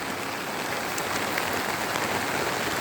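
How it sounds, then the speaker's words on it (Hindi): Rain falling in Rishikesh during the rainy season: a dense, steady hiss of rain on surfaces with scattered droplet taps, even and unbroken throughout, fairly close. "बारिश का मौसम है।"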